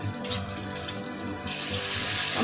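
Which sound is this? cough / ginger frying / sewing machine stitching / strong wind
ginger frying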